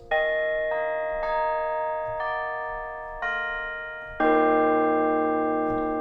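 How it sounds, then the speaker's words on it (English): Clean, bright bell tones from a Keyscape keyboard instrument struck one after another, each ringing out with a long sustained decay; six or so notes, no talking. "Just the clean bell sounds."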